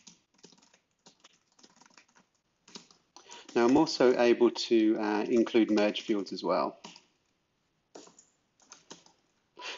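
Typing on a computer keyboard while composing an SMS message, soft clustered key clicks that run through the clip, partly masked by someone talking in the middle.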